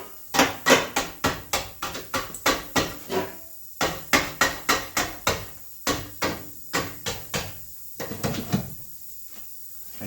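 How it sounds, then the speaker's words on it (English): A pick hammer strikes rusty metal on a rotted Ram 2500 body over and over in quick, sharp, close blows grouped into bursts, with brief pauses between runs. "kind of attack this stuff with my pick hammer"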